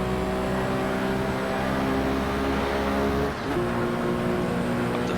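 A Porsche 917K racing engine roars continuously in the Assetto Corsa racing game, loud and sustained, with a brief dip in sound as it shifts up a gear partway through.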